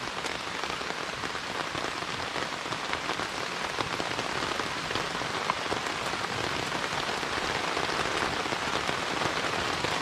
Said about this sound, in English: Let the rain come on down.